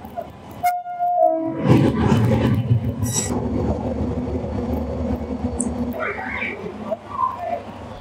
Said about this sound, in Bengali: আপনারা যে ট্রেনটি দেখতে পাচ্ছেন এটা হচ্ছে কাঞ্চনজঙ্ঘা